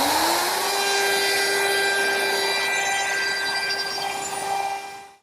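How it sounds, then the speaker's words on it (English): A router fitted with a 3/8 inch radius roundover bit eases the edges of a wooden table top, giving a loud steady high-pitched whine with cutting noise for about five seconds before it cuts off, with no talking. "To ease the edges on my top, I'm using a portion of a 3/8 inch radius roundover bit."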